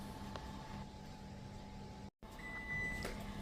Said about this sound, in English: Timer's gone off for the second time.